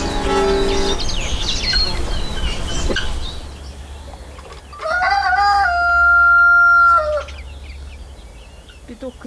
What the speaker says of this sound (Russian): Петух кричит? Кричит.